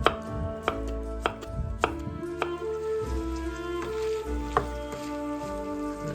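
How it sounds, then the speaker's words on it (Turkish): A knife chops zucchini into small pieces on a board, giving about a dozen sharp, close knocks at an uneven pace over soft background music. "Kabağı dilimledim, minik minik kesiyorum."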